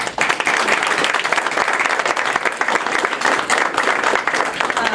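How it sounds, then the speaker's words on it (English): An audience at a school district governing board meeting breaks into steady, dense applause, many hands clapping together at close range throughout. "they should all be given a round of applause"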